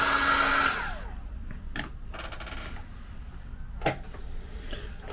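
A hair dryer blows loudly on drying watercolor paint for under a second, then cuts off, leaving quiet room noise with a couple of faint clicks and knocks.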